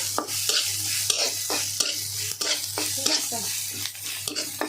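Pointed gourd slices fry in a pan for a village-style meal of rice and beef, a steady close sizzle broken by repeated scraping stirs at a regular rhythm, with no talk.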